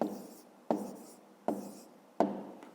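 Pen writing a math answer by hand, three sharp onsets each followed by a scratchy stroke fading away, close and alone.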